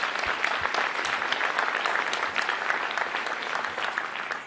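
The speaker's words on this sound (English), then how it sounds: "Let's give Kylan Lewismore a round of applause." A school or community audience gives a dense, steady round of applause for Kylan Lewismore, many hands clapping together at full strength for the whole stretch and ending abruptly.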